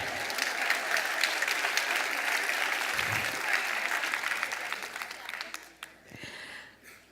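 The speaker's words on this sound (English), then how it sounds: "Give yourself a round of applause." Audience applause at a talk on implicit bias, a dense, even round of clapping that holds steady and then tapers off near the end.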